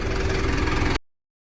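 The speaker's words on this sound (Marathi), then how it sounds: "तर आपण ट्रॅक्टर बाहेर काढलाय, टँकर जोडलाय ट्रॅक्टरला." A tractor hitched to a water tanker idles nearby, a steady low rumbling engine drone that cuts off abruptly after about a second.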